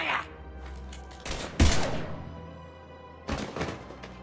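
Gunfire in Mass Effect 3 comes as a few sharp, loud bursts spaced across the moment, with in-game voices between them.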